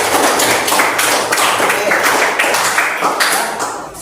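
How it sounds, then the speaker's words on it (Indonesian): A classroom of students claps for a classmate, a loud burst of fairly rhythmic applause that runs steadily for about four seconds, with a brief spoken word heard over it. "Ya, tepuk tangan untuk Ratu."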